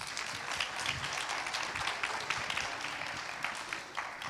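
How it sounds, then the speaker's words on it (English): Audience applause at a startup demo day event, a steady dense wash of many hands clapping at moderate distance, continuous and fairly even throughout with no voices on top. "Let's give him a round of applause."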